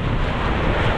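A strong gust of wind buffets the microphone outdoors, a brief loud rumbling roar with no other sound audible.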